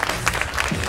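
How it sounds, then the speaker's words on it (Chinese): Audience applause at a street-culture youth festival event in Taoyuan, a short burst of scattered clapping from a crowd, fairly loud and continuous for the whole second. "先给我们的小龙老师一个掌声"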